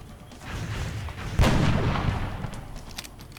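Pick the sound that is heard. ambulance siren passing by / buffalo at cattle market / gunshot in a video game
gunshot in a video game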